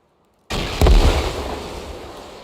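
A rocket explodes in the survival game Rust, bursting suddenly after silence into a loud, close boom with a heavy low thump that rumbles and fades over about two seconds.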